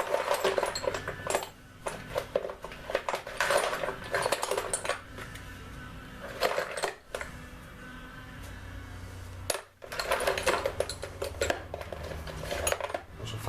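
Metallic clinks and scraping from fitting a nut onto an Austin A35 suspension part, close and fairly loud in uneven bursts with short pauses, no talking.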